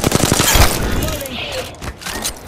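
Rapid automatic gunfire from a light weapon in the video game Apex Legends, a loud close burst of shots at the start, followed by a fading tail and a few further pops.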